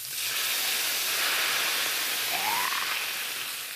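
Vegetables and pancetta sizzling in a hot pan just after white wine goes in, a loud steady hiss of bubbling and steam that holds evenly throughout with no talking.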